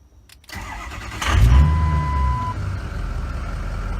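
A cold Ford F550 Lariat with a 6.0 PowerStroke diesel and freshly installed injectors cranks briefly and fires up quickly, then settles into a loud, steady idle close by.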